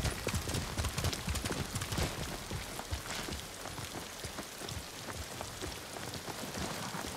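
Horse hooves thud in a fast gallop through heavy rain in the video game Ghost of Tsushima, a dense, loud downpour hissing constantly around the rapid clip-clop.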